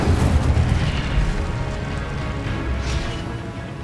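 Incendio fire spell cast in Hogwarts Legacy, a loud rumbling burst of flame with a deep roaring whoosh that sustains and slowly fades over a few seconds.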